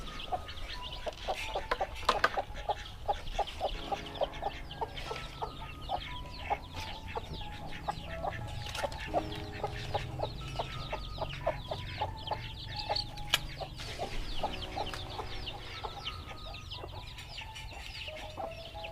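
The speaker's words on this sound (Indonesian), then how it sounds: "Ini pitekmu mbok, cilik-cilik." Small chickens cluck and peep in a Javanese village yard in the morning, with many short overlapping calls near and far, frequent rapid chirps and occasional louder clucks over a busy outdoor background.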